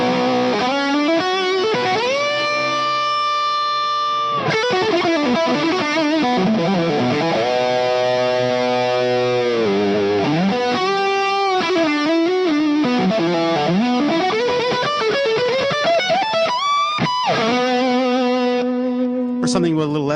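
Electric guitar played through a BB Preamp gain pedal, giving a heavily overdriven, sustaining tone; held notes, bends and quick phrases ring out loud and alone, with no talking over them.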